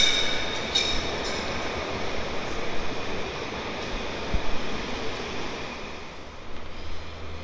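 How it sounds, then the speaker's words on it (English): Low steady rumble of a tram rolling closer on rails at Pyrmont Bay, Sydney, with faint high squeals and a few clanks, no voices. "Approaching is a tram going to Central."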